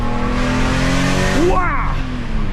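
BMW M3 E46 engine revving hard from inside the car, a loud continuous roar with a rising pitch sweep around the middle as it accelerates.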